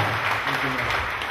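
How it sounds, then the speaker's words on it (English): A church congregation claps together during a lively worship service, dense continuous applause that fills the space, with a voice speaking over it. "Clap for Jesus Christ."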